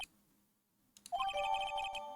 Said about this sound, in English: Heard the phone ring just now, one of those new fandangled ring tunes.